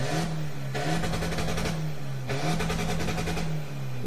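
A pickup truck engine revs hard while held by the handbrake, two long loud surges of engine roar separated by a brief drop, close to the microphone.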